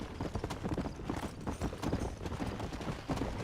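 Galloping horse hooves in the Western video game Red Dead Redemption, a steady rapid clip-clop rhythm running throughout, close and fairly loud over a busy game soundscape.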